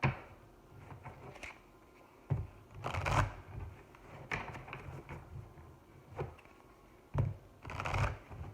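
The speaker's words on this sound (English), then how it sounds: "I'll move this back a little bit so I can have some shuffle room." Tarot cards being shuffled in several quick riffling bursts separated by short pauses, close and fairly quiet, with no talking.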